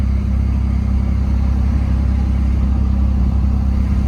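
Ford F-150 with the 2.7 engine and new injectors, driving steadily with a constant low, even engine drone and road rumble, loud and close throughout with no talk.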